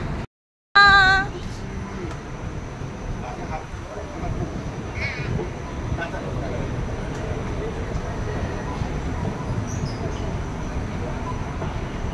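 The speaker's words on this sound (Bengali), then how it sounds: "এটা ট্রেনের ভিতরটা। স্টেশন থেকে বেরিয়ে যাচ্ছি" Interior of a Sydney train pulling out of a station, a steady low rumble and rolling hum with faint squeals and clatter, a brief sharp sound near the start, continuous throughout.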